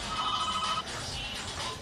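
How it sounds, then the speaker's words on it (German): A telephone rings from inside a bag, a faint muffled trill heard briefly in a noisy room. "In meiner Tasche klingelt das Telefon."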